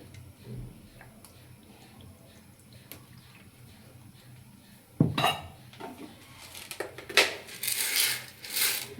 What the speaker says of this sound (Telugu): నేను గ్యాస్ మీద బౌల్ పెట్టానండి ఆయిల్ వేస్తున్నానండి